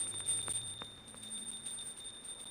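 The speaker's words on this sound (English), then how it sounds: "please ring the bell as you do so" A hand bell rung during a Hindu puja offering gives a steady, bright, high ringing that continues through the whole moment, fairly soft, with no voices.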